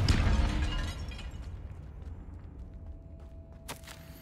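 A Confringo spell in Hogwarts Legacy bursts with a loud, crackling blast that fades into a rumbling tail, with a brief sharp crack near the end.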